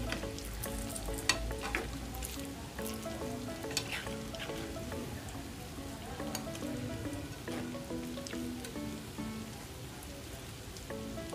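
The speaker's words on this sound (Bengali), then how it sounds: "সেম পদ্ধতিতে আমি সব বল এভাবে ভেজে নিব।" Egg and bread balls deep-frying in hot oil produce a dense, continuous bubbling sizzle with scattered crackles and pops, steady and close throughout with no talk.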